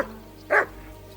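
A dog in Kingdom Come: Deliverance II gives a single short, sharp bark, close and clear over a low steady background.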